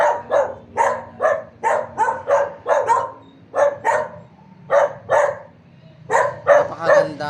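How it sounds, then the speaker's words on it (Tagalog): Several dogs bark loudly at an old house standing over water, letting out a rapid string of close barks in uneven bursts with brief pauses between volleys. "May mga aso."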